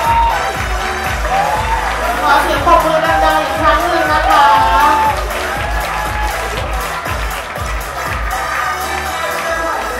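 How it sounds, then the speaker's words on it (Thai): A pageant crowd at Mister National Thailand 2016 claps, cheers and whoops loudly and continuously over pounding music with a steady beat. "ขอเสียงปรบมือดังๆอีกครั้งหนึ่งนะคะ"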